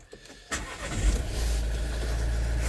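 A Vauxhall Vivaro van with a blocked diesel particulate filter cranks briefly and fires up, its engine catching with a rising surge and then settling into a steady, close, low rumble at idle.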